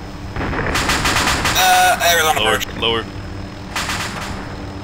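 Heavy gunfire in the military game Arma 2: a long sustained burst of rapid shots, loud and close, followed later by another short burst, while players speak over it.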